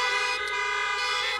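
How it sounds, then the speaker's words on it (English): Car horns honking together at a drive-in church service, a continuous loud blaring chorus of overlapping tones held for the whole moment. "could you honk your horn right now?"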